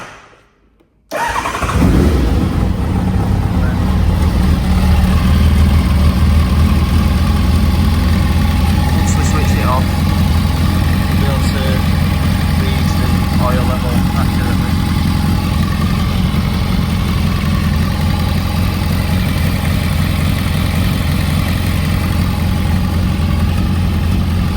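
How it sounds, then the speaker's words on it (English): Kawasaki ZZR600 motorcycle engine cranks and starts after an oil service, then settles into a steady, close idle that runs on evenly with low-pitched throb throughout. "Start the bike, just run it not for long."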